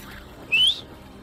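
A brief, shrill finger whistle attempt rises sharply for about a quarter second, loud and alone against a faint background hum.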